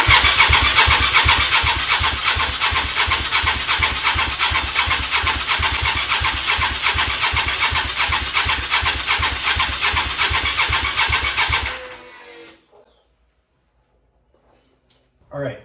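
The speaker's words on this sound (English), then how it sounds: "let's turn the fuel on, turn everything on, and see if this thing will fire up for us" A 1000cc engine on a go-kart cranking for its first start attempt, a loud, close, rhythmic chugging of the starter for about twelve seconds that stops abruptly without the engine catching, followed by near silence.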